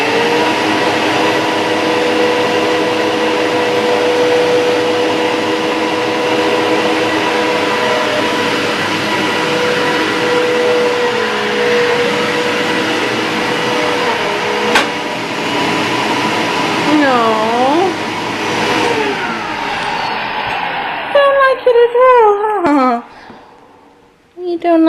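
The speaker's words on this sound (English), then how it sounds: "Do you not like the Hoover machine?" A Hoover vacuum cleaner drones loudly and steadily at home, its hum shifting pitch briefly near the end before cutting out, with someone talking over it.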